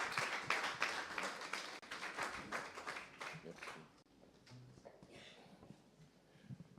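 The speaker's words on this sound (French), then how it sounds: "dans nos applaudissements, nous recevons l'homme de Dieu, le révérend Chimbombo Hubert." A church congregation at a worship service applauds, dense clapping filling the first four seconds and then thinning into scattered claps and crowd murmur.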